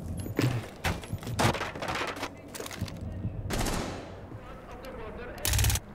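Gunfire from a video game match replay crackles in quick bursts and single shots, loud and close, with a longer burst near the end.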